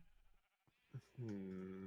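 A sheep bleats in the Minecraft video game, a single clear, sustained bleat closing the short moment after a brief soft sound, with a voice faintly present.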